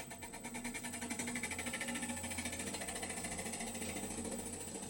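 A homemade drill press runs at high speed, its motor giving a loud, steady, rapidly pulsing mechanical whir that holds throughout without a clear stop.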